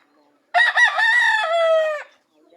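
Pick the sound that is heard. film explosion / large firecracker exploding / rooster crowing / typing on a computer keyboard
rooster crowing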